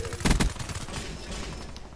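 A close, loud burst of gunfire in Call of Duty Black Ops III, a few sharp rapid shots followed by a fading rumbling tail.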